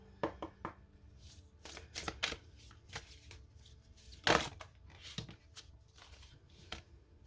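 A Quantum Oracle card deck is shuffled up close in quick, papery bursts of riffles and flicks, with brief pauses between handfuls and a sharper flurry partway through.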